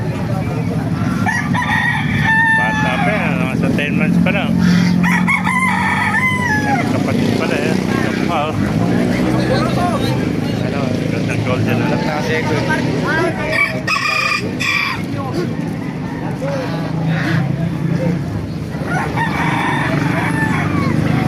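Roosters crow and chickens cluck in a busy yard at a market in Baliuag, with people talking over them and an engine droning steadily underneath.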